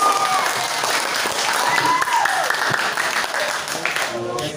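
Applause from a school class gathered for a sustainable-lifestyle project session, steady clapping sustained across the whole stretch at moderate loudness, with voices and tones mixed underneath.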